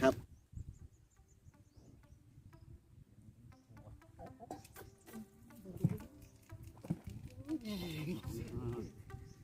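Black crickets kept as catfish bait chirp in a close, busy buzz of insect sound, with voices talking over them.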